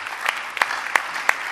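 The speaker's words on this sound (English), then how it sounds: "our laureates deserve one final round of applause" Audience applause at an awards night ceremony in Los Angeles, a steady patter of hands with a few sharper claps standing out, close and moderately loud.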